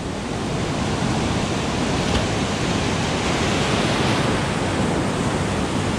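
Ocean surf on a fishing beach roars in a continuous, dense wash of breaking waves, close and steady throughout with no voices.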